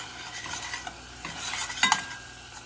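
Thick rose hip puree being stirred into a pan, with irregular scraping and utensil clicks against the metal over a faint sizzle, close and fairly quiet.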